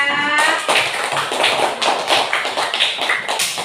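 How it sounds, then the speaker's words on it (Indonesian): A classroom group claps together for a few seconds, a dense patter of many hands close by with no talking. "berikan tepuk tangan ya"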